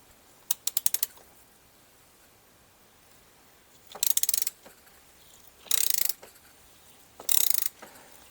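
A 3/8 drive ratchet wrench undoing the oil filter housing on a Jeep Grand Cherokee 3.0 CRD OM642 diesel engine, four separate bursts of quick close clicking separated by pauses.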